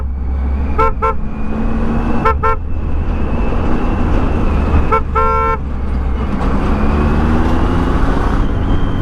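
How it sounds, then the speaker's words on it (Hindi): Several short car horn toots sound in bursts, a pair early, another pair, then a rapid string of beeps, over steady engine and traffic rumble, heard from a Triumph Tiger motorcycle on a crowded Indian market road. "As long as he is honking,"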